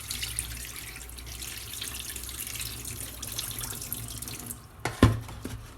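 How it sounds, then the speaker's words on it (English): Water poured off soaked rice through a sieve splashes steadily, close and fairly quiet, ending with a sharper clunk and splash near the end. "So I'll just pour the water away."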